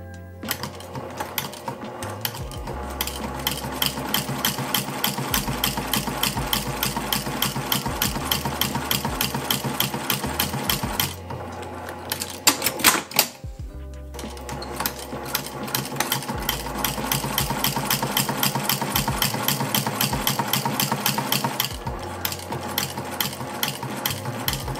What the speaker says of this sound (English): Now I'm gonna go on my sewing machine and I'm going to sew 1/4 inch seam allowance on this side